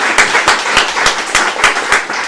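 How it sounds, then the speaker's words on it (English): An audience at a national political convention applauds, a steady burst of many hands clapping loudly and close for a couple of seconds with no voices on top. "Let's give a round of applause for Leah and Len."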